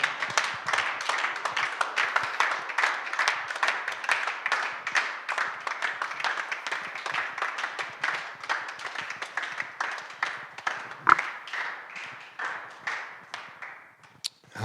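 A church congregation applauds together, a steady run of rhythmic claps that carries on for the whole stretch, close and fairly loud, with a faint voice briefly under it and the clapping thinning at the end.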